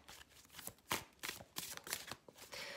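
Tarot-style cards are shuffled and drawn for a reading, giving a close, quiet run of papery riffles and soft slaps in quick irregular bursts, with no voice.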